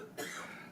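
A single short, faint cough, somewhat distant and muffled, sounds once and then fades.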